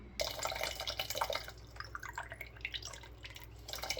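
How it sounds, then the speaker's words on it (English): Water trickles and drips into a Hornady 7mm PRC brass cartridge case set on a zeroed scale, a close, soft run of splashy drips and small pours with no one talking. "Now let's fill it up with water."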